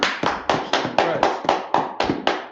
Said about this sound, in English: Sign Christ, clap it up